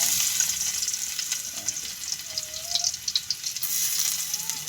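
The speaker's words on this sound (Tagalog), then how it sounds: "Mainit na po yung mantika, ilagay ko na yung bawang." Garlic sizzling in hot cooking oil in a home kitchen, a steady bright hiss with small crackles and pops throughout, fairly close and alone with no talk.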